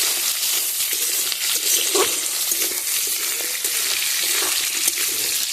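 Dried lotte (Bombay duck) fish sizzling steadily as it fries in a pan, a continuous close, loud crackle with occasional stirring clinks.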